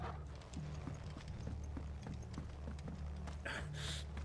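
Faint, regular horse hoof clip-clops under a dense, rumbling Final Fantasy 16 game soundscape, with a breathy whoosh near the end.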